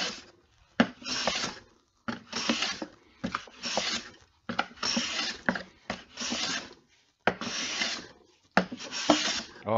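A hand plane shaves fine curls from wood in a shed, with repeated rasping strokes about a second long, close and rhythmic with short pauses between passes.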